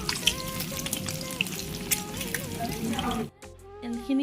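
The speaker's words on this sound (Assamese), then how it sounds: "ইয়াৰ তেলতে মই আলুখিনি দি দিম।" Potatoes frying in hot oil for an Assamese egg curry, a steady close sizzle with light stirring clatter that drops off near the end.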